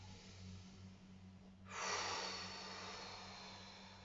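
A single deep inhalation during a guided breathing exercise: after a quiet start, a broad airy rush of breath swells in at about the halfway point and holds steadily to the end, close and fairly soft, with no talking.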